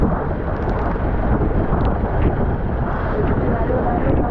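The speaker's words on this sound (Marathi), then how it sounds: "बाहेर जर तुम्ही बघा ना तर लाटा बघा किती मोठमोठ्या येतात" A fishing boat rides out a sudden storm at sea, with a steady, loud roar of wind and big waves washing against the hull that never lets up. Faint voices may sit beneath the noise.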